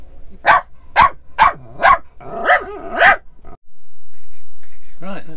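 A puppy barks in a rapid series of about six sharp yaps, then lets out a couple of whiny, rising yelps, loud and close, with a brief pause and one last cry.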